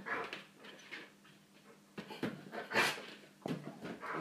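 Soft dog whimpers and snuffling breaths come in short bursts with pauses, close by and fairly quiet, with no barking.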